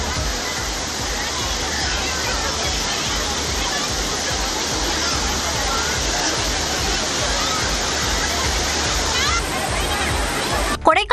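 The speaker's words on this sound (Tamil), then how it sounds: "கொடிவேரி அணையில் குவிந்த சுற்றுலா பயணிகள் அருவி போல கொட்டும் தண்ணீரில் உற்சாக" Water pours over Kodiveri dam like a waterfall, a loud, continuous broadband rush filling the whole clip, with faint crowd babble from bathing tourists mixed beneath and a brief clatter at the very end.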